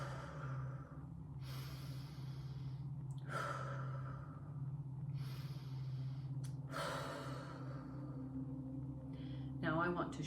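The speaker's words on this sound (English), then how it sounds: "Now take 3 deep cleansing breaths." Three slow, deep cleansing breaths during a guided DNA activation meditation, each long inhale and exhale heard close and soft over a steady low background drone.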